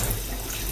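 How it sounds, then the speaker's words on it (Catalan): Tap water runs steadily into a kitchen sink while a few small wild mushrooms are rinsed to wash off soil and bits of grass, a close, continuous hiss with no voices. "molt poca aigua necessiten just per treure-hi la miqueta de brossa que puguin tenir de terra"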